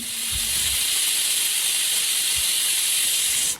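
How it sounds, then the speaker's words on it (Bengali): A pressure cooker sits on a gas stove and gives a loud, continuous hiss of escaping steam for a few seconds, with a couple of faint low thumps, then cuts off abruptly at the end. "ঢাকনা আটকে দিয়ে কুকার গ্যাসে বসিয়ে দিয়েছি। হাই আছে কুকারে 2টো সিটি না আসা পর্যন্ত এখন অপেক্ষা করছি।"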